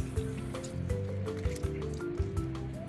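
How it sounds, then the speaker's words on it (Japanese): Yuzu is squeezed by hand while pressed with a spoon, giving soft wet squishes and dripping juice over apple and daikon pickles, with faint low humming in the background and no speech. "このようにスプーンで押さえながら握ると果汁がたくさん出てきます。"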